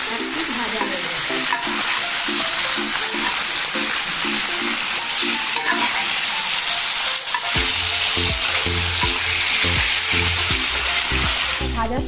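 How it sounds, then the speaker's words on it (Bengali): Fish frying in a pan for a mustard parshe curry, a loud, constant sizzle and crackle of hot oil up close, with a steady tonal hum running underneath throughout. "এবারে মাছগুলো একটু ভেজে একটু ভাজা হয়ে গেছে।"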